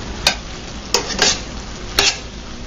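Flour being stirred into a sizzling pan, a steady frying hiss broken by four brisk scraping strokes of the spoon, close and clear with no talking.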